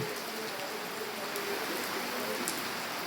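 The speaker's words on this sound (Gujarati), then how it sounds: "વરસાદ ચાલુ છે" Steady rain falls outside a Mahadev temple, a continuous soft hiss of drops on surfaces that holds level throughout with no talk over it.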